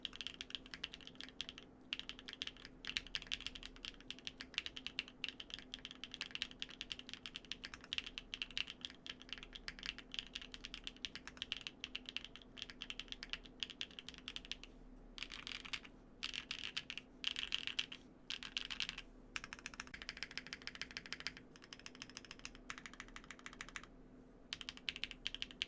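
Typing on a NEO65 mechanical keyboard, a fast continuous run of crisp, close keystrokes with brief pauses near the end and a faint steady hum underneath.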